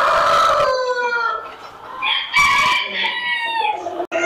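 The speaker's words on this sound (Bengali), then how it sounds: "এটা শো কোয়ালিটি জাপানিজ ব্যান্টাম।" Show-quality Japanese bantam chicken at a fancy-breed poultry farm: a loud, close crow with clucking calls following, several harsh bursts over a few seconds with faint farm background.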